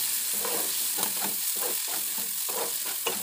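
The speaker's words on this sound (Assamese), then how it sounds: "বিলাহীখিনি গলি যোৱালৈকে পাচলিৰ লগত ভালকৈ ভাজি" Tomatoes frying with vegetables in a pan for Maggi noodles give a steady close sizzle, broken by regular stirring scrapes, with no talking.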